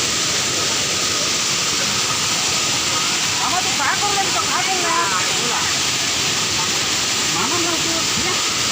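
One of three waterfalls near Hivare Khurd roars as a steady, dense rush of falling water at close range, with people talking faintly over it.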